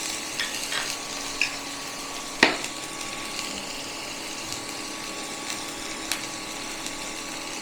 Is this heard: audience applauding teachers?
no